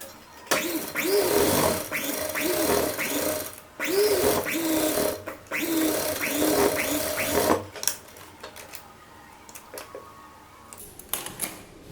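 A sewing machine stitches a kurta neck in three close, rattling runs over the first eight seconds, then goes quiet apart from faint handling clicks.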